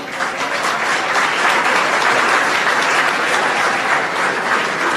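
Steady, dense applause fills the whole stretch at a press conference and pre-event for a sports excellence award, honoring the ministers of Education and Sport; the clapping is loud and continuous, with a faint crowd murmur beneath.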